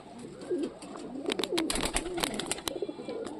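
Punjabi pigeons coo in a low, rolling run of repeated calls, fairly close, with sharper chirps and bird chatter rising over them through the middle.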